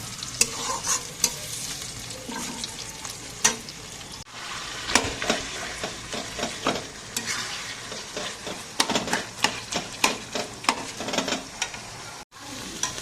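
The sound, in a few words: slit green chilies frying in a pan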